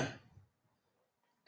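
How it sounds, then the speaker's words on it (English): A person clears their throat once, a close, rough burst at the start that fades into quiet room tone, with a faint movement noise at the end. "So I need to clear my throat."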